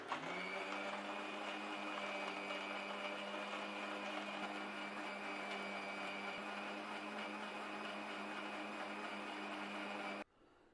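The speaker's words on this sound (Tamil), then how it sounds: "மிக்சியில் அடித்து எடுத்துன்னு வந்துட்டேன்." A mixer grinder blends pomegranate, sugar, milk and ice cubes with a steady, close motor whine that runs unbroken for about ten seconds, then cuts off abruptly.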